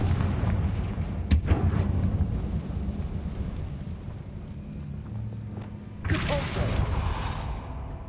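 Confringo fire spell blasts in the Hogwarts Legacy video game: a sharp explosive crack early on over a rumbling battle din, then a second loud blast a few seconds later, with faint voices mixed in.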